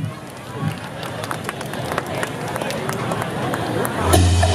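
An audience at a Tết flower-market stage show in Bình Điền claps to welcome a cải lương singer, scattered applause that swells near the end beneath a presenter's amplified voice.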